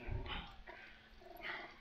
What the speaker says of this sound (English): Dog's trying to get away.